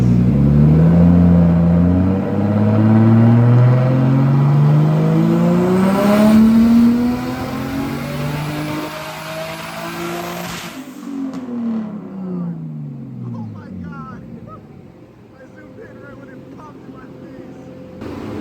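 A forged, turbocharged BMW M50 engine in an E30 revs hard on a dyno, its loud, rising howl climbing through the gears, then cutting off and dropping into a rough idle with turbo flutter.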